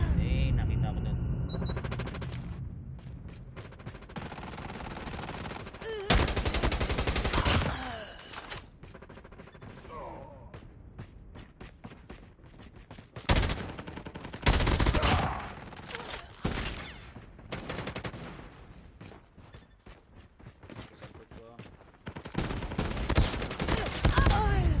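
Bursts of automatic gunfire and single shots from the mobile video game Call of Duty Mobile crackle loudly in several clusters, with gaps of quieter game sound between the volleys.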